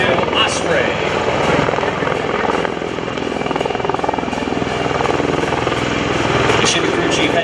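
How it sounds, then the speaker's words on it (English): A US Marine Corps MV-22 Osprey tilt-rotor aircraft flies at an airshow with a loud, constant rotor thrum and engine roar throughout, filling the whole clip at close range. "Your United States Marine Corps MV-22 Osprey."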